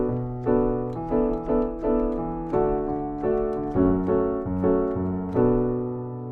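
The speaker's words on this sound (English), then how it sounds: "And we can speed it up to make it sound like this." A guitar strums a chord progression at a quicker pace, the strums landing closer together and ringing loud and clear on their own.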